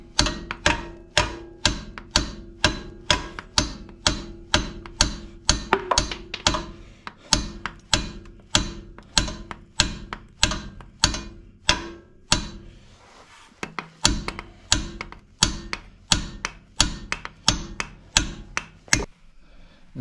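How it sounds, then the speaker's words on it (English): Steady hammer blows on a metal rear shock skid plate notch, about two strikes per second, loud and close, continuing for the whole stretch with a brief pause near the middle. "says to hit it with a hammer"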